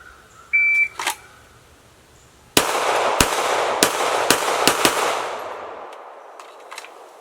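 A Glock G17 Gen 3 pistol fires at targets out to 25 yards, six sharp, loud shots in quick succession with ringing echoes fading after, preceded by a short electronic beep.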